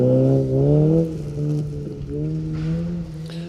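A Mini Cooper rally car on a stage drives past, its engine note rising and falling in pitch as it nears, heard at a moderate distance with a soft turbo whoosh.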